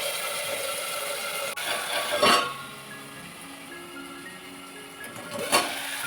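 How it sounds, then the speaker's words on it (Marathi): Diced potato tipped into hot oil in a pan of roasted green chillies, prepared as a home-style Marathi vegetable dish, hissing in a steady close-up sizzle with spattering bursts and a lid clattering on to cover it. "आता हा बटाटा आहे ना आपण त्याच्यामध्ये टाकायचा आणि तेल उडते, त्यामुळं असं झाकायचं."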